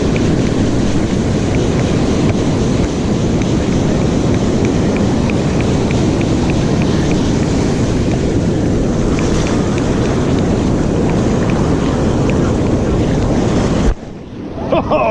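Heavy ocean surf rolls and washes continuously along the Oregon coast at Lincoln City, loud and broadband with wind buffeting the microphone, cutting off abruptly near the end.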